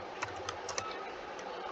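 Typing on a computer keyboard while entering text in an Excel spreadsheet, a handful of quick light key taps in an irregular burst, close but faint over a steady background hiss.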